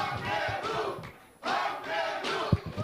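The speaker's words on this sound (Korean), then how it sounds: "큰 박수로 맞아주십시오." A crowd at a political party rally for supreme council candidate speeches in Jeju cheers and shouts as the next candidate is introduced. The loud, continuous crowd noise dips briefly midway, then swells again with a few sharp bursts.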